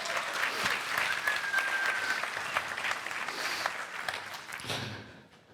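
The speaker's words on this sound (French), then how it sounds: "s'il vous plaît, j'aimerais bien des applaudissements." Audience clapping at a DevLille 2025 conference talk, a dense sustained round of applause from a room full of people that fades out near the end.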